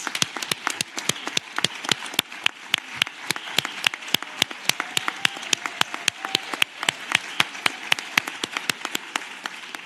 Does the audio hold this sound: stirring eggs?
no